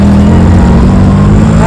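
Auto rickshaw ride to Shegaon station, a steady loud engine drone with road rumble filling the whole stretch, no audible talk.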